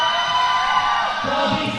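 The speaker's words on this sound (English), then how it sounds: "Canage, our in-house announcer, just whipping this crowd into an absolute frenzy." A roller derby crowd cheers and whoops in a sustained, loud roar at a bout, the noise swelling steadily with no break.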